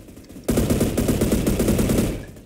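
A sustained burst of rapid automatic gunfire from a Roblox shooter game, loud and close, lasting about two seconds after a quiet start.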